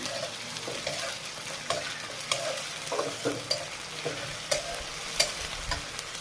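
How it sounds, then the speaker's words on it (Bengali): Garlic fries in a pan for a fish and cauliflower dish, giving a steady soft sizzle with repeated scrapes and taps of a stirring utensil close by. "রসুন দিয়ে দিলাম, ভেজে নিয়ে"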